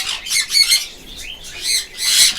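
Sun conure parrots, an adult pair at an exotic bird farm, give repeated loud, harsh squawks in bursts with short gaps between them, close by and with no talking.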